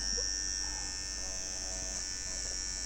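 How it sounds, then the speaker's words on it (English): Electric hair trimmer used to line the sides and nape during a men's haircut, giving a steady, continuous close-up buzz with no talking. "We use a trimmer"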